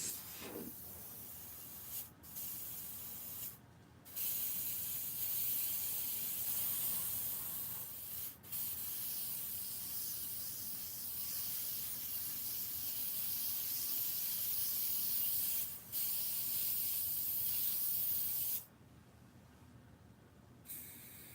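An airbrush with a trigger gun, run at about 15 to 20 psi, hisses steadily onto the hair of a Michael Myers mask, with several short pauses between continuous spray bursts.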